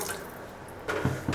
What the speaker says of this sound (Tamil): முருங்கைக்காய் வேகிறதுக்கு தண்ணி ஊற்றிக்கலாங்க.